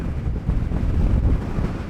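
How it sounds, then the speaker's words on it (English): Strong wind buffets the microphone on a CF Moto 450MT motorcycle test ride in a steady, heavy low roar with no other distinct sounds. "it's windy"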